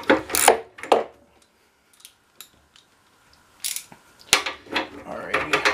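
Metallic clinks, ratchet clicks and tool scrapes come in short bursts separated by quiet gaps as a bolt is worked loose on a lawn mower during teardown, close and without speech.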